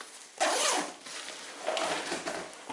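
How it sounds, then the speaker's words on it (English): A zipper runs closed on a sleeping bag, two quick rasping pulls, close and fairly loud, with a short pause between them and no talking. "Zips up okay."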